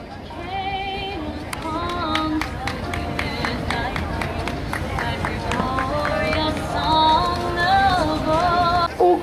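A crowd applauds a half-marathon runner reaching the finish at the Lier Loop road race, with scattered claps and cheers running underneath a steady amplified announcer's voice throughout.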